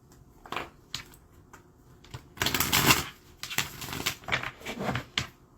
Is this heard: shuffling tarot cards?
yes